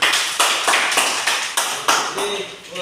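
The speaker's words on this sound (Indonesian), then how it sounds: "Oke, berikan tepuk tangan." A class of vocational automotive painting students gives a short round of applause in a classroom, with repeated bursts of claps close by and the sound fading toward the end.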